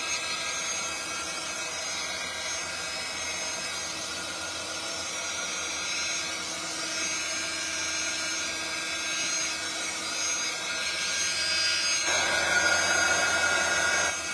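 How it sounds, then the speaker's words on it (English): A craft heat or drying tool blows air across a card with a continuous, even whirring roar close by. The tone holds steady throughout and brightens slightly near the end. "Sorry about the noise of the dryer."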